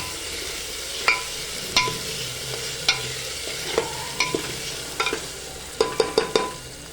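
A spatula stirs chopped tomato in a frying pan for methi dal, giving a series of sharp scrapes and clicks, some in quick clusters, over a faint steady sizzle.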